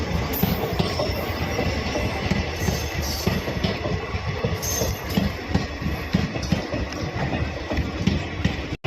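A passenger train bound for Somnath, near Gondal, rumbles along with a constant loud roar and rattling wheels, heard from inside a moving carriage.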